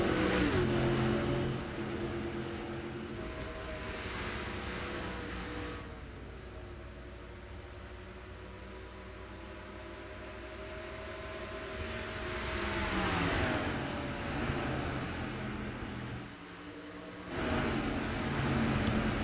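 An onboard ride in a throwback race car lapping a track: a steady engine drone with rising and falling revs and wind noise, swelling as it accelerates, with no talking.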